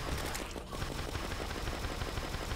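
The Archer Fish machine gun in Terraria's Calamity mod with Infernum Mode fires in a dense, continuous stream of rapid shots, loud and unbroken apart from a brief dip partway through.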